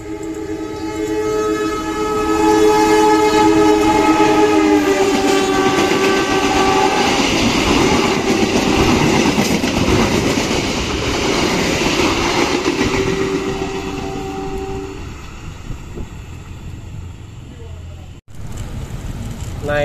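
A loud train passes close by, its horn blaring in long sustained tones while wheels rumble and clatter, then the horn fades and the rumble continues.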